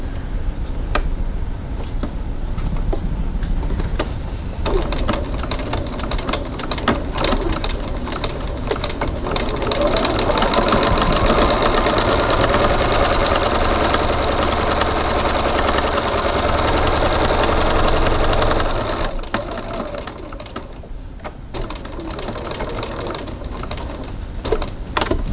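A sewing machine stitching piping around a fabric window, running in a steady fast whir with short stops and starts, loudest through the middle stretch.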